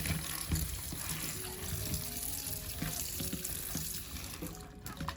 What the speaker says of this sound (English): Rinse the mushrooms quickly under cold running water,